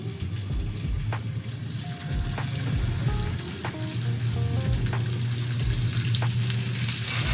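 Scallops searing in a hot pan give off a steady, close sizzle and crackle, with occasional clinks and a low hum underneath throughout.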